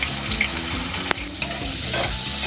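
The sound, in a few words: potatoes frying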